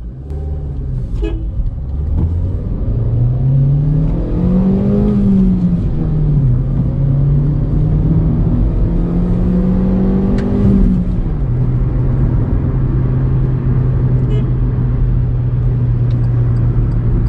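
A Hyundai Elite i20 hatchback engine revs up and climbs in pitch, drops as it shifts, then pulls again, ending in a steady cruising drone.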